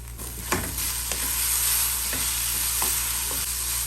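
Steady sizzling from a hot pan with a few scraping stirs of a utensil, close and continuous, no voices.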